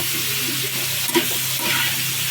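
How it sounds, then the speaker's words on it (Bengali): Potatoes fry in oil as they are stirred for beef tehari, a close, continuous sizzle broken by a few soft scrapes and one clunk of the spoon against the pot. "আমাদের আলু ভাজা চলতেছে বিরিয়ানির জন্য, তেহারির জন্য"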